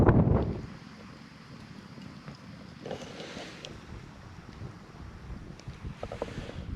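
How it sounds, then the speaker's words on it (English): Wind gusts buffet the microphone at a lakeside camp by Annascaul Lake in Ireland, opening with a loud rumbling blast and then settling into a steady low roar with intermittent gusts. "Hopefully that wind goes down"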